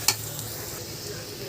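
Chili powder being stirred into an ivy gourd curry in a frying pan, a brief scrape near the start followed by a soft, steady sizzle close by.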